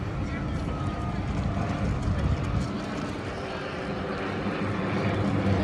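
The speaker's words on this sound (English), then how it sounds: "Coming around again from the west, here they are still in their flyover formation." West Coast Ravens aircraft passing overhead in formation at the Lincoln airshow, a steady loud engine drone with wind rumble that holds throughout, heard from the ground.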